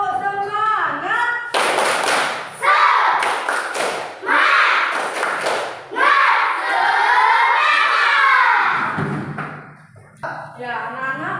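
Fifth-grade schoolchildren in a classroom doing a rhythmic spirit clap, loud group chanting over patterned claps and thumps, with a teacher's voice at the start and end.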